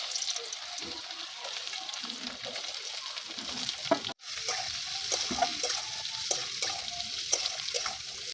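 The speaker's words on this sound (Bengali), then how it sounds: "এইভাবে সব সবজিগুলো ভেজে নেব।" Carrots and other vegetables frying in white cooking oil for a vegetarian biryani, giving a steady close sizzle with occasional stirring scrapes, briefly cut off midway before resuming.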